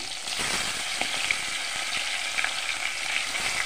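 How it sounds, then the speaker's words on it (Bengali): Poa fish fry in hot oil, giving a dense, continuous sizzle with steady crackling and occasional sharper pops, close and fairly loud throughout. "এখন এক একে মাছগুলি ভেজে নেব"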